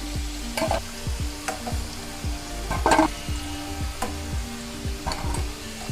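Sweet beetroot rolls frying in hot oil, a loud and steady sizzle up close, broken at regular intervals by sharp stirring or scraping clinks in the pan.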